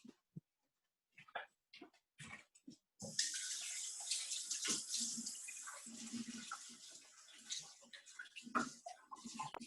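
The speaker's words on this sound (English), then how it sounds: "right now I'm going to clean my bowl with my brush" A brush swishes a bowl clean in water at an electrical facial demo, with scattered taps and clinks first, then a steady close splashing and sloshing that runs for several seconds.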